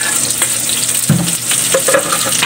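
Onion and chili hit a hot pan while cooking octopus adobo, producing a loud, steady close sizzle with a few stirring scrapes and a brief thud as ingredients drop in.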